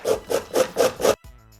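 Five rhythmic rasping strokes of cabbage being grated on a box grater for creamy coleslaw, close and fairly loud, each stroke evenly spaced before stopping abruptly.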